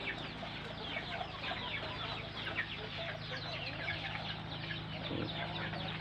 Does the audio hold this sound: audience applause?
no